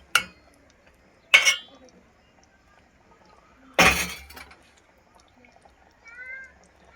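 A spoon scrapes and clinks against a pot while stirring thick Punjabi rajma (kidney bean) gravy, giving three separate sharp clatters with quiet gaps between them and a faint squeak near the end.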